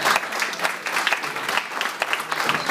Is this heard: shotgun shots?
no